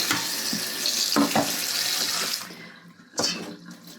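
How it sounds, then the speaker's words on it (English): Cold water gushes from a tap into a sink in steady bursts, cutting off briefly and then starting again, with a splashy hiss. "I run a little bit of cold water over because it helps cool it down"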